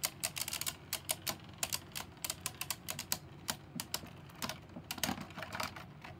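Beyblade Burst spinning tops, Turbo Valtryek and Geist Fafnir, clash inside a battle stadium after launch, giving a steady run of sharp, irregular plastic clacks and ticks over a low whirring hum, with no talking.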